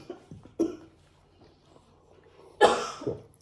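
Several coughs from a person with a dust allergy come at irregular intervals, two softer ones early on and then a louder, harsher double cough near the end, heard up close.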